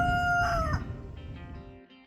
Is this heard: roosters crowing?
yes